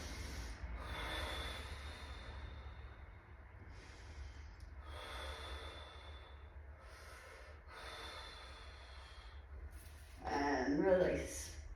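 A person breathes slowly in and out through the nose during a fascial release exercise class, with several soft, airy breaths and a louder, closer snort-like exhale near the end.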